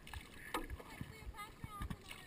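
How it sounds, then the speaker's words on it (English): Canoe or kayak paddled on Silver Lake in sunshine, with soft, irregular paddle dips and splashes close by and light wind noise as people talk. "look at that, paddling in the glistening sunshine."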